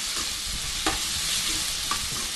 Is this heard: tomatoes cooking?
yes